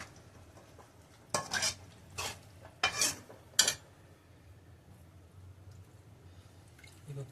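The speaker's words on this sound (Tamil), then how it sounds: "தட்டைப்பை சேர்த்துட்டு நல்லா கலந்து கொடுங்க" Cooked lentils being stirred into a dish in a pan in a home kitchen, a few scraping, clattering bursts of a utensil against the pan over a quiet background with faint sizzling.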